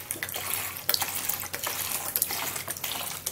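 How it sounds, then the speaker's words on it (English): Cold tap water runs into a bowl, a steady splashing stream with small surges, close and moderately loud with no talk over it. "So I'm going to be putting some cold water in this,"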